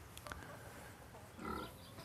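Pigs on a farm push a paddle waterer to drink, giving faint grunts and snuffles along with a soft metallic clunk and a short trickle of water, quiet and fairly close.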